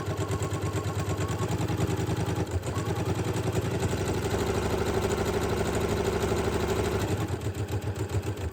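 A sewing machine top-stitches a fabric loop for a hexie Christmas stocking. Its motor whirs at a steady rhythm, stops briefly, then carries on stitching before tapering near the end.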